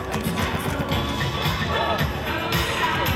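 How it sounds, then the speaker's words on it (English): Crowd cheering and clapping at a professional beach volleyball match in Las Vegas, a steady, dense roar of voices and applause filling the whole moment with scattered shouts. "Give that man a round of applause."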